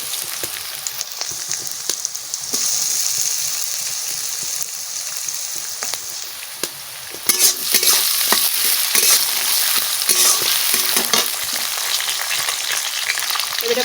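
Potatoes sizzling and frying in a hot pan while a pointed gourd chicken dish cooks, a steady loud crackle that swells sharply partway through, with stirring scrapes.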